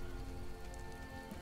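Steady rain falls in the video game Skyrim, a constant hiss of drops on surfaces with a low background hum, and no voices.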